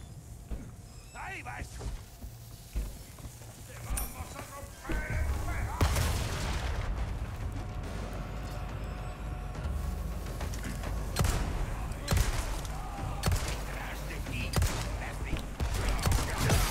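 Heavy booming shotgun blasts in the Resident Evil 4 Remake, several loud shots fired at intervals amid crowded combat noise, with game sounds throughout.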